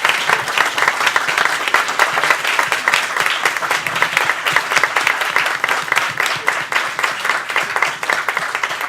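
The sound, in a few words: applause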